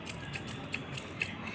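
A spray bottle of diluted buttermilk is pumped onto garden plants, giving three or four short, faint hissing spritzes at a regular pace over a quiet background.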